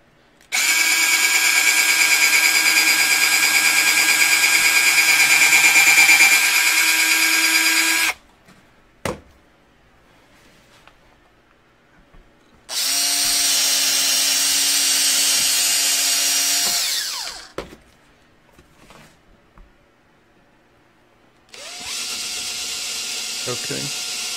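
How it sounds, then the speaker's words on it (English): Cordless power drills drive screws in three long bursts of steady high whine, loud and close, separated by quiet gaps with brief clicks and handling sounds. "I use a couple different drills here."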